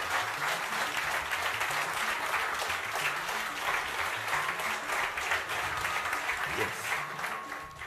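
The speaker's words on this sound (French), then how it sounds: "je vais vous demander de vous applaudir très," A festival audience claps loudly and steadily at a live talk event, a dense sustained ovation lasting throughout with a few faint whoops rising over the clatter.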